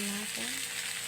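A Korean fish cake mixture with onion leaf sizzles in a pan as it is stirred, producing a short burst of frying crackle mixed with a brief scraping stir.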